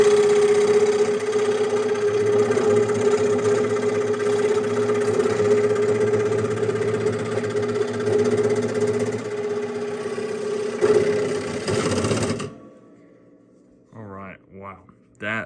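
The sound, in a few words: scroll saw cutting padauk wood, 9.5 TPI blade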